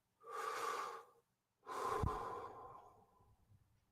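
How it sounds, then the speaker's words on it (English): Two slow, deep, relaxed breaths, a long inhale then a longer exhale, close and clear in a quiet room with no talk. "Deep breaths."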